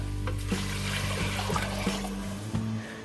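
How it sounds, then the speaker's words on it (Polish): Water poured into a soup pot of softened vegetables, a steady gushing splash with shifting bubbly tones close by, no voices. "A teraz dodaję wodę."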